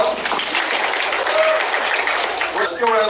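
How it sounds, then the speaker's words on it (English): Audience at a fundraiser speech in Detroit gives a steady round of applause and cheering, dense crowd noise lasting throughout with voices mixed in. "Let's give a round of applause."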